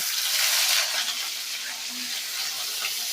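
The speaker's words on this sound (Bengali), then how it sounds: "পেঁয়াজটা কিন্তু এর ভেতরে দিয়ে ভেজে নেব।" Chopped onion frying in hot oil in a kadai for a pasta dish, a loud, continuous hissing sizzle close by, slightly stronger at the start.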